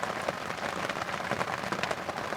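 Steady rain drums on an overturned boat on an island in the Dnieper at night, a dense, close patter of drops with no let-up.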